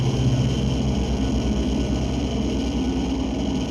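Noise music excerpt: a dense, unbroken wall of rumbling, droning noise with heavy low-end churn, like an idling engine smeared across the whole range, holding at a steady loud level throughout.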